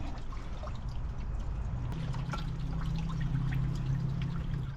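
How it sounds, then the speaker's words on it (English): Water pours steadily from a tap just turned on aboard a Dutch barge, a soft continuous trickle and splash with a low hum beneath, close and quiet, without speech. "When I turn this to the on position, water starts coming out."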